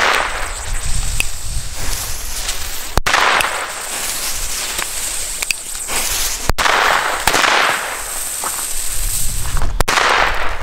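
Small firecrackers detonate inside a long tube, three sharp loud bangs spaced a few seconds apart, each followed by a rushing, hissing echo through the tube.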